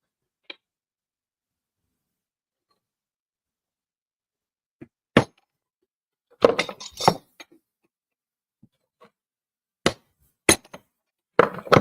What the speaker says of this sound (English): that's the way to punch that out of there, Larry.